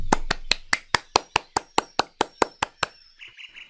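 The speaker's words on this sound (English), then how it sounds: "You guys applaud using your hands." About a dozen sharp, evenly spaced hand claps ring out close and loud, then stop, leaving a faint high chirp behind.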